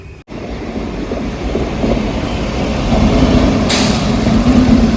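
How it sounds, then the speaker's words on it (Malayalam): Tatanagar–Ernakulam Express train passing a station on the Ernakulam–Thrissur route in Kerala, a loud steady rumble that builds as it goes by, with a brief hiss partway through. "ടാറ്റാനഗർ WP7 ആയിട്ട് പോകുന്ന വണ്ടി ടാറ്റാനഗർ എറണാകുളം എക്സ്പ്രസ് ആട്ടോ."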